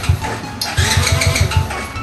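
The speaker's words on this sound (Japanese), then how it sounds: "もうセルもね、すごいいい音じゃないですかこれ。" A small buggy engine's electric starter cranks in a quick pulsing rhythm, the motor churning loudly and close by.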